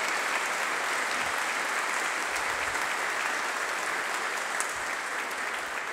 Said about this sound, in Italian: Facciamo anche un applauso a lui.